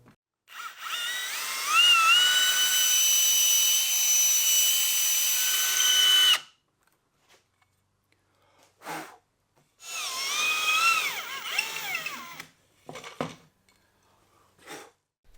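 A drill spins a 7/16 inch Forstner bit into a wooden mantle, whining loudly for a long stretch that rises in pitch, then goes quiet. It is followed by a second shorter burst and a few brief clicks.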